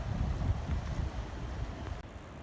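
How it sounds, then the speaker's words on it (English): Strong wind gusting outdoors on a very warm, windy day, a steady roaring rush with low buffeting against the microphone, continuous and close, no voices. "I'm tired of this wind"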